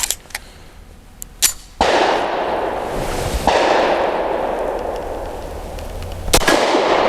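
A Wilson Combat SFT9 pistol fires Federal Syntec Defense 138-grain segmented jacketed hollow points, giving a few sharp, loud reports, several close together early and one later, separated by stretches of rushing noise.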